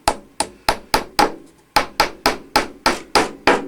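Wooden dowel rod hammered into a blind drilled hole for a cross-laminated bowl base, twelve sharp close hammer blows in a steady rhythm with one brief pause, each strike ringing and decaying quickly.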